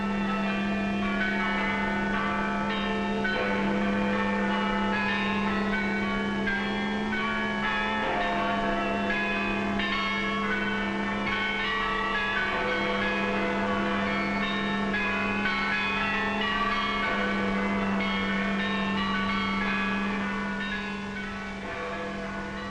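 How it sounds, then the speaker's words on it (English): Church bells ringing out across Britain in a 1944 documentary film, heard as a steady, sustained, overlapping peal with a droning hum beneath it, continuous and fairly loud throughout. "Now the bells rang out a song of thanksgiving, a song of victory."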